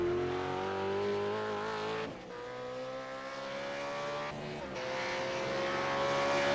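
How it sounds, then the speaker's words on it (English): A V8 Supercar engine screams at high revs around Suzuka in a racing sim, loud and near, climbing through gears with two brief dips as it shifts or brakes before rising again. "That engine is screaming, isn't it?"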